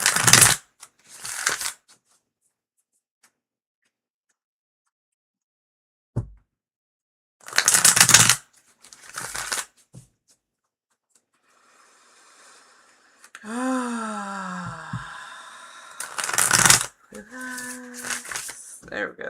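A deck of tarot cards is riffle-shuffled and bridged in several short, crisp bursts separated by pauses, with a voice speaking briefly between the shuffles.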